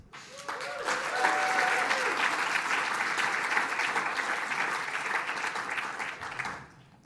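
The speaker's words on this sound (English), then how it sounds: "So give them a round of applause." An audience applauds shortlisted Emerging Leader nominees at a national volunteering awards ceremony, steady dense clapping that swells quickly, holds for several seconds, then fades at the end, with a brief voice early on.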